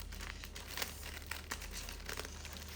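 Parchment paper, folded to size for a cheesecake pan, crinkles and rustles in short snips and crumples as scissors cut it into a circle, faint and close with no talking.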